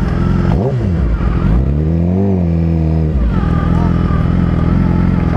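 Motorcycles at a Bikers Against Child Abuse gathering rev up loudly and close, with rising and falling engine pitch over a constant rumble of idling bikes.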